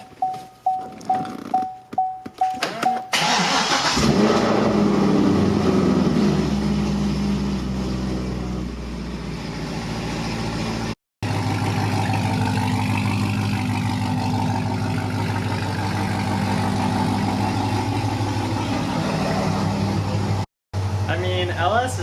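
A Chevrolet C6 Corvette's LS V8 cranks with a quick series of starter bursts, then catches and settles into a loud, steady, rumbling idle that holds close and continuous, with a couple of brief dropouts.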